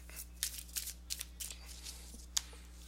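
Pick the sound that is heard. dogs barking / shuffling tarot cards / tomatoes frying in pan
shuffling tarot cards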